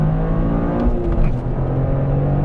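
A Toyota GR Corolla engine revs hard under acceleration, a loud, steady, close drone with rising tones heard from inside the car.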